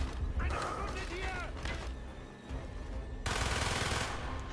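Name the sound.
Patriot machine gun firing in video game Call of Duty: Black Ops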